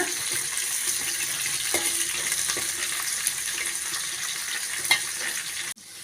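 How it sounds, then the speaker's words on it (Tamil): Curry leaves sautéing in a pan for a fish kulambu with small onions, giving a steady, close sizzle throughout with a few faint stirring clinks, alone and without talk. "கூடவே ஒரு கொத்து கருவேப்பிலை சேர்த்துக்கலாம் நல்லா வதக்கி விட்டுக்கோங்க"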